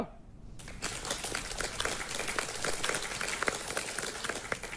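A studio audience at the Battleground reality show claps loudly. The applause starts abruptly after a short quiet moment and continues as steady, dense clapping.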